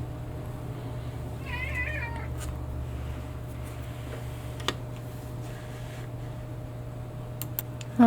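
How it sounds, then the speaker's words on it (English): A house cat gives one short meow near the start, close and clear, against a steady background hum. Faint clicks and taps follow, and no one speaks. "I had to move the cat."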